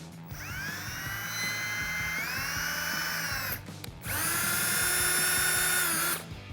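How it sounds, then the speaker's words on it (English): A power drill whirs steadily, drilling an eighth-inch hole in a Dodge Challenger for a rear spoiler, pausing briefly midway before spinning up again, loud and close, with no talking. "Go right in the center, and from there you can drill your hole."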